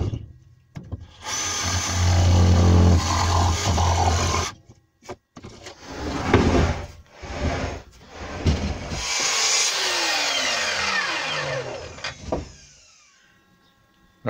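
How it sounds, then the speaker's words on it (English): A jigsaw cuts through a wide wooden board in a home workshop, a loud buzzing motor with the blade's rapid chatter, stopping and restarting in several bursts before winding down. "I'll just get jigsaw out, cut a bit more out"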